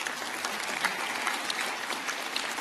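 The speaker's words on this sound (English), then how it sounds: "Give her a round of applause." An audience at a jazz festival, Boardman Jazz Fest, breaks into steady, dense applause that holds at an even level throughout with no voices over it.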